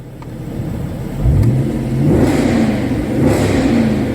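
A car engine in sport mode revs up, rising in pitch, dipping and climbing again in a throaty, close, fairly loud rev with no talk over it.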